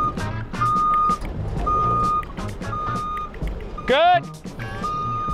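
A junk removal truck reverses with repeated loud, evenly spaced backup beeps, heard over idling engine rumble and a hiss of air, with a brief squeal partway through and someone speaking briefly.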